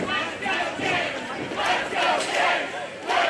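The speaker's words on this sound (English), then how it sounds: "This crowd just rallying" Wrestling crowd rallying behind a favorite at an AIW Intense Championship match in Youngstown, a loud surging wave of cheers and chanting that rises and falls rhythmically over a few seconds.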